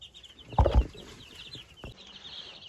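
Young leghorn chickens, part of a flock of about a hundred new egg layers, cluck in a short burst close by, followed by a softer cluck, with faint chirping from the flock behind.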